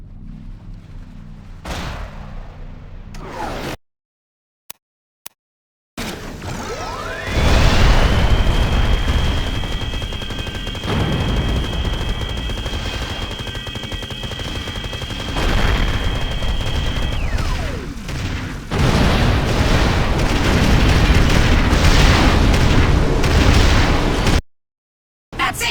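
Weapons fire and blasts destroying a lab in the Xbox 360 game Destroy All Humans: Path of the Furon, loud and dense, with a sustained rising energy-beam tone over rumbling explosions for about ten seconds, and brief silent gaps.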